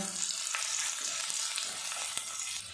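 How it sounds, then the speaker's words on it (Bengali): Chopped onion fries with cumin in a pan as it is lightly stirred, giving a dense, steady sizzle with faint utensil scrapes, no voices. "পেঁয়াজটা হালকা করে নাড়াচাড়া করে নেব।"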